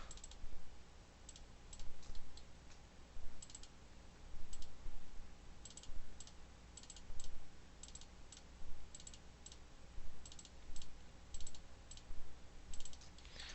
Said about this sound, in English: I'm just clicking once in one row and then shift double clicking the last one in the row